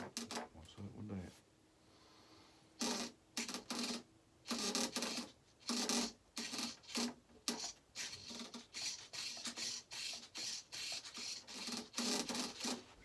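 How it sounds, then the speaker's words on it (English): The top piece of an HK TL2000 build is rubbed into place in short, scraping bursts with brief pauses between them, close up, while a voice can be heard at the start. "pushing the rod upward, rubbing the top on."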